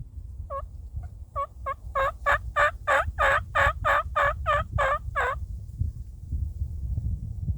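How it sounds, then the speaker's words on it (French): Wild turkey gobbling outdoors in spring, a loud rolling burst of rapid repeated notes that swells and then cuts off, over steady low background rumble, with no talk. "J'ai entendu un dindon plus tôt, mais il s'éloignait de moi"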